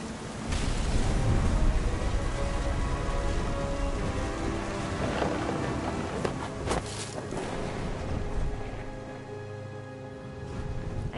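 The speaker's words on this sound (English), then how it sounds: "The thunder sounded much too close and full of angry power" Thunder rumbles low and heavy through a steady wash of rain, building into deep rolling swells and sharper crackling bursts that keep going for several seconds without any speech.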